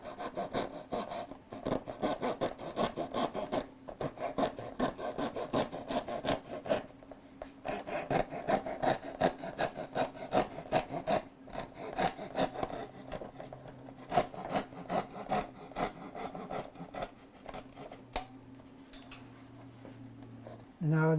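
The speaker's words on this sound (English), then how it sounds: "Now that we're finished cutting the rough cut" Hand sawing through wood to make the rough cut for a song stick, with rhythmic rasping strokes repeating steadily at close range and a voice talking intermittently over them.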